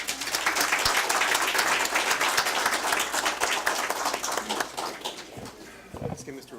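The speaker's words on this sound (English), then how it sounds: "Let's give him another big round of applause." Audience at a school district board meeting in Calexico breaks into sustained clapping and applause, dense and steady at first, then thinning out toward the end, with voices talking underneath.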